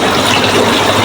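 Water being scooped up from a pond as a sample, a brief steady rush of liquid pouring and filling a container at close range with no talk.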